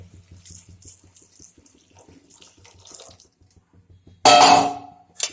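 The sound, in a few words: water poured into pot of cooking taro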